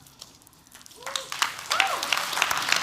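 Audience applause rises from quiet to steady clapping as a guest is brought on stage at a talk event, with a voice and a few whoops over the crowd in the latter half.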